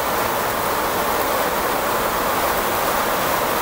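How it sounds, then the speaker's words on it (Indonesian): Heavy rain pours down in a dense, steady, loud hiss that never lets up, with no other sounds rising above it. "Suasana lagi hujan deras, jadi suaranya kurang terdengar, suara saya."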